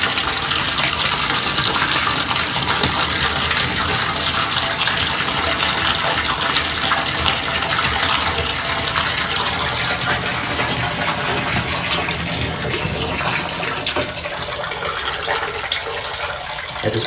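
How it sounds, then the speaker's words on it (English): Cold water gushes steadily from a tap into a bathtub with a clogged drain, a continuous loud splashing rush that holds even for the whole stretch and eases slightly near the end. "I'm going to turn the cold on now. I'm just going to allow the water to fill."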